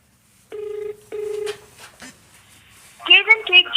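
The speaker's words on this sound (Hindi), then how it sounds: "ये फ़ोन, ये देखिए, फ़ोन मिलाया, स्पीकर ऑन करा," A mobile phone dialing a GSM mobile motor starter on speaker: two long, steady dial tones sound close and clear, then brief clicks, then a chiming tone burst as the call connects.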